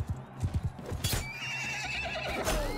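Horse neighing in the Mount & Blade II: Bannerlord video game, a close, loud whinny with clip-clopping hooves and combat noise around it.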